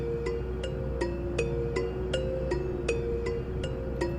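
A desk bell preset from Anasynth with a halftime effect, slowed into a steady ticking pattern of bright, short dings spaced evenly over a low hum, faint and alone like a clock.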